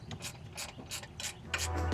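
A hand ratchet with a 10 mm socket works long subframe bracket bolts loose on a G35/350Z, ticking in quick repeated bursts of clicks, close and fairly quiet, with no talking.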